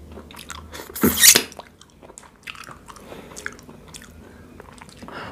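Loud crunchy bites and chewing of a spicy Thai cockle salad with salted egg yolk, close to the mic, one sharp crunchy burst near the start and then softer wet chewing and small smacks, with no talking.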